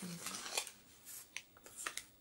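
Scissors snip through paper in several short, crisp cuts at irregular intervals, close and quiet, with a brief soft voice at the start.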